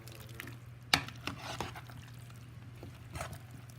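Vegetables for a lentil stew are tossed and stirred in a pan, giving a sharp clack and soft scraping, faint sizzling and quiet utensil knocks close by.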